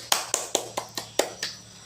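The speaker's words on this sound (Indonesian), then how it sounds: "Nah, tepuk tangan buat Ahmad dan Fauzi." A small group of schoolchildren in an elementary classroom claps in about seven sharp, evenly spaced bursts, fairly close and brief, with no talking over it.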